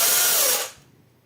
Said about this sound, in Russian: пилим, и пилу закусила